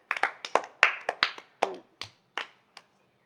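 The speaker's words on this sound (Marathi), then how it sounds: "टाळ्या वाजवा." Children in a classroom clap for a classmate writing on the blackboard, a dozen or so separate, crisp claps, quick at first, then thinning out and fading.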